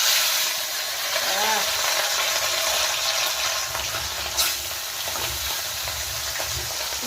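Rohu fish fry in a hot wok with a loud, steady sizzle and hiss that carries on without a break, close up and dominating throughout.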